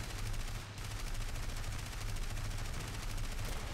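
Rapid bursts of 30 mm aircraft cannon fire in the air combat game War Thunder, a dense continuous rattle of shots throughout, loud and unbroken.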